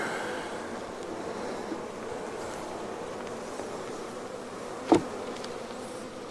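Faint, steady buzzing of a honeybee swarm hums throughout, with one sharp click near the end.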